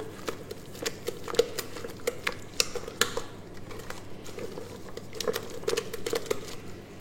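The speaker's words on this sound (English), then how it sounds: "Just going to stir that in." A spoon stirs pepper into a garlicky dish, making soft scattered clicks, scrapes and light taps against the pot that come at an uneven pace over quiet room noise.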